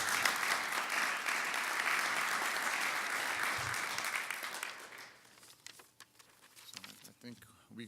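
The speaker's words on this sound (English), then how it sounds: "Please give him a round of applause." An audience at a Knight Commission on Intercollegiate Athletics meeting applauds a speaker, with dense steady clapping for about five seconds that then thins out and fades as a voice starts talking.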